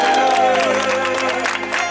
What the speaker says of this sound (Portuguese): Uma salva de palmas para nossa mãe